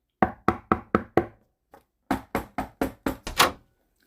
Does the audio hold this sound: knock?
yes